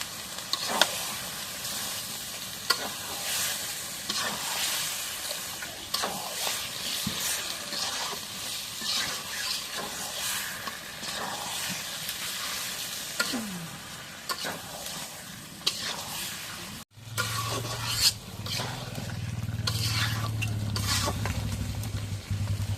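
A spatula stirs spiced fish frying in a pan, scraping and clattering over a constant loud sizzle. Near the end a deeper hiss and bubbling takes over, with no voices.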